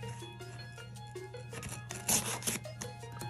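A package holding an Apple iPad 8th Generation 10.2-inch is being cut open, giving short scraping, rasping strokes up close. The strokes run in an uneven rhythm and grow louder and coarser toward the end, over a steady low hum.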